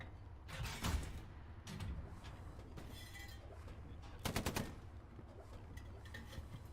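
Gunfire in the World War II shooter Hell Let Loose during a competitive esports match: two short bursts of rapid shots, one near the start and one later, over a low rumbling battlefield backdrop.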